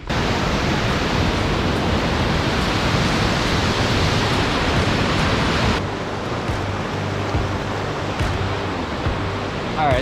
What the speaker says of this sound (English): there's a waterfall over here we got to go check out